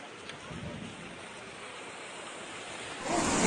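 Floodwater in a swollen river rushing through Lepe, Huelva during severe flooding, a continuous broadband roar that swells louder toward the end, with no talk over it.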